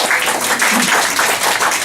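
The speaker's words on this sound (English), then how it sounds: "please give a big round of applause to 3 of them" Audience applause at a Toastmasters club meeting, a steady dense wash of many hands clapping close by that fills the whole moment without a break.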